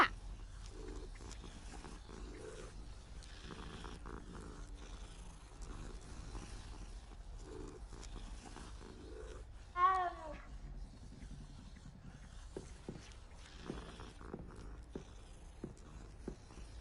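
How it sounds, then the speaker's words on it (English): A cat in the video game Hogwarts Legacy gives one short, clear meow midway, rising above a steady bed of ambient game music and background noise. "Cat!"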